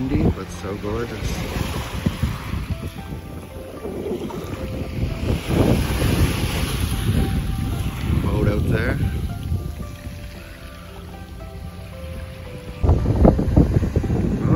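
Blustery beach wind rumbling against the microphone in uneven gusts, rising strongly near the end, with voices talking over it at intervals.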